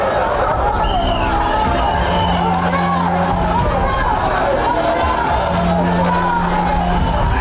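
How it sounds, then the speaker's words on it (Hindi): Crowd of protesters gathered outside Prime Minister Netanyahu's house in Israel, a steady dense babble of many voices with occasional whoops and shouts, loud and continuous throughout. "इजराइल में हजारों लोग प्रधानमंत्री बेन्यामिन नेतन्याहू के घर के बाहर जमा हुए हैं।"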